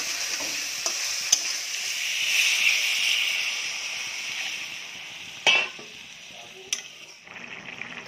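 Raw fish frying in a pan, a moderate steady sizzle that swells in the middle and fades, punctuated by a few sharp clicks and scrapes of a utensil.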